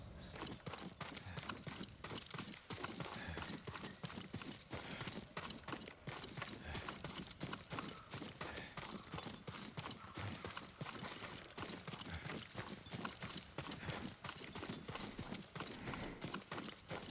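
Horse hooves clip-clop in quick, regular beats throughout a gameplay scene from Ghost of Tsushima, a continuous near trotting rhythm at low volume with no voices.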